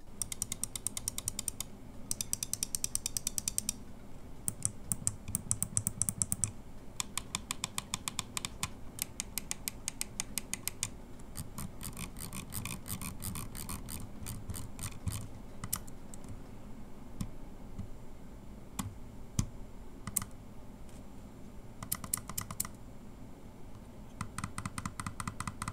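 Switch clicks from a Razer Basilisk V3 Pro mouse: rapid bursts of small, crisp clicks in quick runs and scattered single presses, close but quiet, with no talking.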